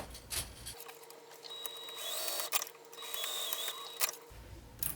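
Sewing machine back stitching while assembling a fabric organizer, a steady mechanical whir with short bursts and clicks as the stitch direction reverses, close and moderately quiet.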